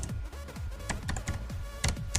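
Quick, irregular clicks of keys on a computer keyboard as someone types out a short word, close and fairly quiet with no talking.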